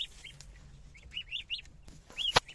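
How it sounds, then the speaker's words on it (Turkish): Geese, goslings and some sick chicks kept together for treatment give scattered high peeping calls, several thin chirps in a row, ending with a louder sharp peep close by. "Burada da şöyle kazlar, kaz yavruları ve biraz kırgın civcivler var."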